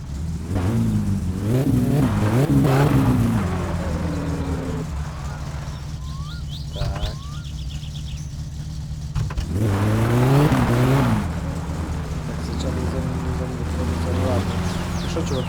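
A car in the video game My Summer Car revs and drives, the engine climbing and dropping in pitch through loud surges with quieter idling stretches, while someone talks over it.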